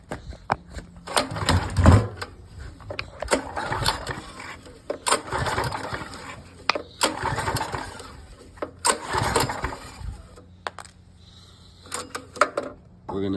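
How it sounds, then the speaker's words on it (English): A generator engine cranks repeatedly without catching, bursts of sputtering churn separated by short pauses, close and moderately loud, with no clear speech. "how to get a generator started that won't turn over or fire over"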